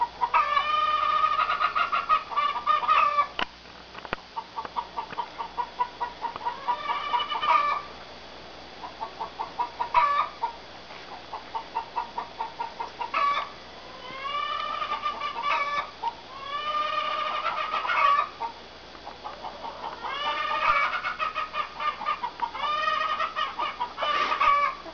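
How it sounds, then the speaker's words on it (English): Chickens cluck and cackle repeatedly in rhythmic bursts, fairly close, with a busy farmyard background and no talking. "I better take some video of the chicken that's making all the noise."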